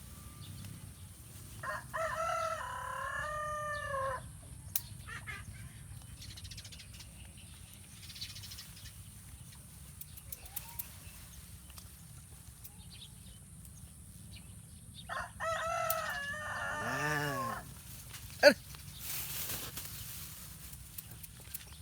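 Roosters crow twice at a small backyard chicken farm, with faint clucking and quiet outdoor background between the calls; the crows sound moderately distant.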